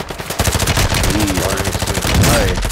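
Rapid automatic gunfire rattles in Call of Duty Warzone, a close, loud burst of repeated shots with a brief voice mixed in.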